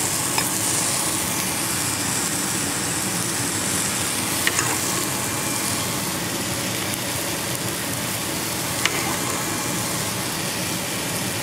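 Chicken parmesan fries in a pan with a loud, steady sizzle as sauce is spooned over each piece. Faint clinks break in now and then.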